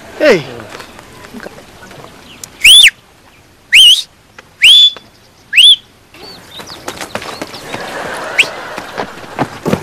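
A series of four sharp, rising whistles, evenly spaced and loud, cut in after a faint opening call, with softer background noise and scattered sounds continuing afterward.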